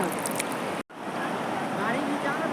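The holy river rushes and flows in a steady, full wash of water noise, with one brief sharp dropout near the start.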